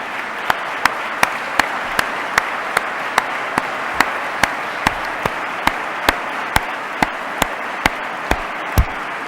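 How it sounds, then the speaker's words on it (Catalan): An audience at a radio programme event gives sustained applause for the staff, a broad wash of clapping with sharp, regularly spaced louder claps standing out near the microphone. "dongueu un fort aplaudiment a la gent que realment fa possible l'Altra Ràdio"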